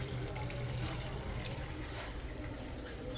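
Tap water runs steadily into a sink as a toothbrush is rinsed under it, with a continuous close splashing.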